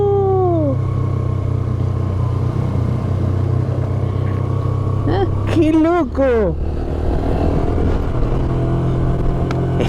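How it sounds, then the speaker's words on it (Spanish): A motorcycle cruises in third gear at about 40 km/h on a mountain road near Dique Ameghino in Chubut, its engine a steady hum, while a rider's voice exclaims loudly over it. "Tercera va sola la moto a 40 kilómetros."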